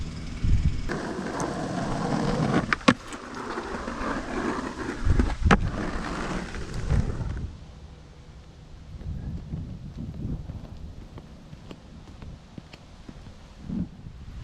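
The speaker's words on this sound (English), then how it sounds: "I guess I'm gonna try and do a nose wheelie around the mani pad" Skateboard wheels roll and grind across a skatepark during a nose wheelie around a manual pad, a loud rough rumble with a few sharp clacks for about seven seconds, then fading to quieter distant rolling and wind noise.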